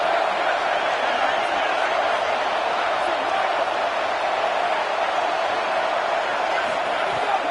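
College football video game stadium crowd roaring for the defense, a broad steady wash of cheering noise held at an even level, with a commentator's voice faintly over it.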